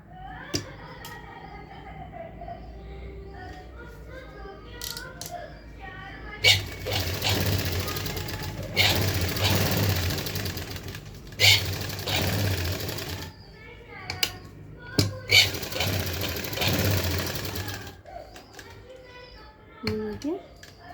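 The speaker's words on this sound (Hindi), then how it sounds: "अब हम इसके नेक पे अच्छे से सिलाई लगा लें।" A sewing machine stitches the neck of a designer blouse in bursts, loud rapid whirring runs of several seconds separated by pauses, while someone speaks quietly between and around them.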